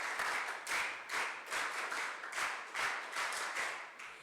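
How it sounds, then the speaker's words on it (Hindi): Audience clapping at a girls' character-building camp, steady and moderately distant, swelling and easing in regular waves of claps with no voices over it. "एक बार वीर ताली बजाएंगे उनके लिए।"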